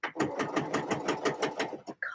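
Sewing machine stitching, a close, rapid rhythmic chatter of needle strokes running continuously for about two seconds before a brief stop.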